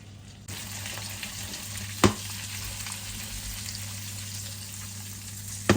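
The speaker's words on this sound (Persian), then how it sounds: "من گوشت قلقلی ها رو همه اطرافش رو سرخ کردم" Swedish köttbullar meatballs fry in a pan with a steady, close sizzle that runs throughout, broken by two brief louder pops or clatters.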